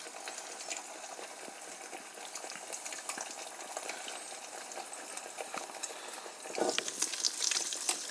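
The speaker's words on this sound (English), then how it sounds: "See how good it's gonna cook the eggs. The butter eggs, I call them." Eggs frying in butter in a pan, a continuous close sizzle and crackle with scattered pops, growing slightly louder and busier toward the end.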